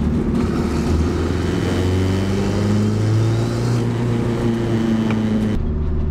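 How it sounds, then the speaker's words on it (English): A triple-turbo Honda Civic engine revs hard and close, holding a loud, raspy drone against a boost cut with a wavering pitch, then drops off sharply near the end. "it definitely makes boost faster, but I think it's hitting some sort of boost cut or something"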